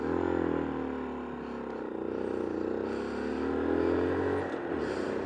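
A Honda Monkey 125 motorcycle fitted with a Takegawa power filter turns around at a convenience store, its engine a steady close drone that rises and eases slightly through the maneuver.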